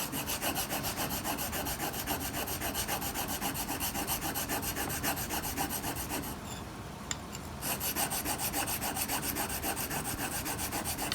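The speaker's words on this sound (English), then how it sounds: "I'm moving across the stone just to even the wear out on the stone" Hand tool edge rubbed back and forth across a coarse sharpening stone: close, steady, evenly repeated rasping strokes with a brief pause partway through.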